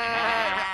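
A sheep on a farm lets out one short, close bleat.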